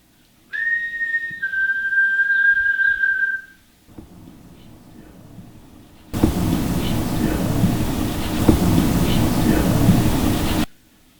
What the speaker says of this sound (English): Can you copy my whistle?